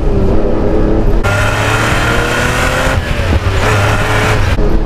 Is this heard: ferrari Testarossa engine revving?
yes